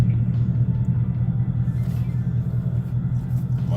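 A Ford Mustang GT with a FlowMaster Outlaw catback exhaust and Scavenger X-pipe rumbles at low revs under 3,000 RPM, a deep steady throaty drone heard from inside the car.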